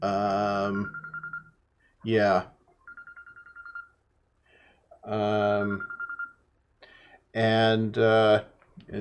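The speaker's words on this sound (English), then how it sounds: "That was my phone ringing." A mobile phone rings in repeated electronic bursts, each a short melodic tone pattern separated by pauses, close and clear, with a voice speaking briefly between rings.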